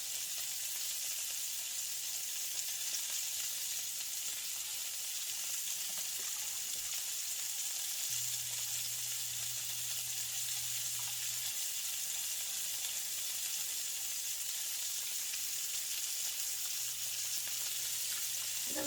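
Frying food sizzles steadily in a pan while a small whirligig stirrer works through it during a poor man's steak dinner, with soft stirring scrapes under the constant close hiss and no talking.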